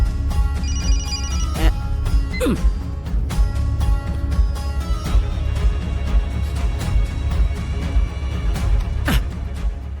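A telephone rings repeatedly at a steady level throughout, layered over music and other sounds in a TV drama scene, with no talking.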